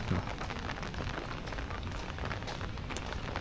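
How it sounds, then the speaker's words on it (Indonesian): Steady rain falls outdoors on a street in Yogyakarta, a dense, even patter close by, with no voices over it. "Ini hujan guys,"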